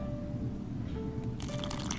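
Water trickles in small additions onto dry pumpkin and sticky rice flour for a pancake dough, with soft drips and wet squishing over a low, steady background rumble.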